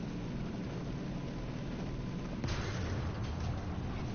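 A single deep tank cannon blast fired on the move in War Thunder ground combat, a sharp boom midway over a steady low engine rumble, followed by faint echoing rumble.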